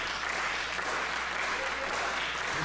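A crowd at a motocross event applauds in a dense, continuous wash of clapping and cheering, with talk blended in underneath.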